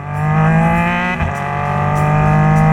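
Race car engines restarting and running steadily after a stoppage on track during a race, a loud continuous harmonic drone with a brief dip near the middle, close and sustained.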